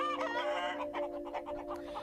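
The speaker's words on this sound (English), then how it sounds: "hens clucking and pecking at corn scattered on the ground" Hens pecking at scattered corn cluck and chatter up close in a quick, busy run of short calls, steady and moderately loud with no talking.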